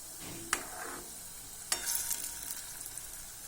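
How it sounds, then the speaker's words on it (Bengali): Banana pitha, round balls of banana batter, fry in hot oil on a low flame, giving a soft steady sizzle broken by a couple of sharp stirring clicks against the pan. "দেখুন আমাদের রসগোল্লার মতো কলার পিঠেগুলো ভাজা হচ্ছে"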